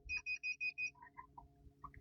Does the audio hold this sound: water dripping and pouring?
no